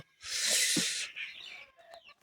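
A chicken gives a loud, squawking cluck up close in a henhouse, followed by a few softer clucks and murmurs in a quiet space.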